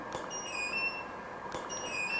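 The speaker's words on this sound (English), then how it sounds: "So you can hear the beep." A light meter taking an exposure reading gives two short electronic beeps with chirpy tones, spaced well over a second apart, moderately loud over a quiet room.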